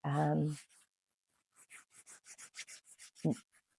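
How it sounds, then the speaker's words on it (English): Palms rubbed briskly together as a breathing-relaxation technique: a brief voice at the start, then about a dozen quick, soft, rhythmic swishing strokes, faint and close, with a short vocal sound near the end. "or another option of Brahmari, is rubbing the palms together"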